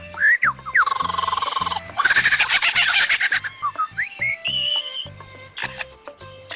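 A lyrebird mimics a kookaburra and other bird calls. Close, loud whistles, chirps and chattering bursts follow one another in quick, varied phrases over a low tonal background.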